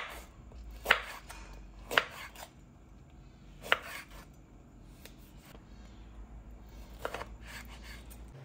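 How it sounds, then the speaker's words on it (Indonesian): A knife chops eggplant into pieces, several distinct sharp chops against a board spaced about a second apart, then softer scraping and handling sounds. "Tolong nih kita berah aja dan kita potong-potong."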